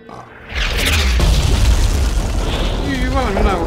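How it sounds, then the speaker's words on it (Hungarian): In the Diablo 3 game, during Act V against Malthael, a big explosion bursts in after a brief quiet start and rolls on as a loud, sustained, deep rumbling boom. "valami nagyot robban"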